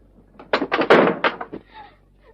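Knocking on a locked cell door in a 1949 Hindi film, a rapid burst of loud, close thuds and bangs lasting about a second.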